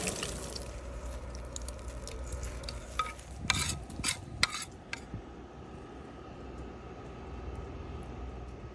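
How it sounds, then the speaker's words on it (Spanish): Breaded San Jacobos stuffed with cooked ham and cheese fry in a pan over medium-high heat, giving a low steady sizzle with a few brief clatters of utensils against the pan midway. "sartén, fuego medio alto y un golpe de fritura"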